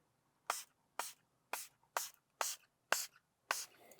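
A handheld spray bottle mists slip solution over a Ford Mach-E screen protector, seven sharp, evenly spaced hissing squirts about half a second apart, close and quiet with nothing else around.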